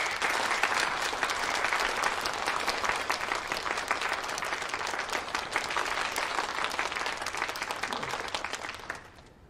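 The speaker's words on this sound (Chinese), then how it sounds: "让我们一起用热烈的掌声欢迎 SH 新人大众化区总经理易森陈 Chen" An audience gives steady, warm applause to welcome a general manager on stage, a dense continuous patter of many hands that holds evenly for several seconds and then tapers off at the end.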